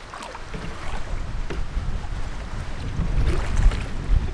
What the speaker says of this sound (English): It's quite windy here today.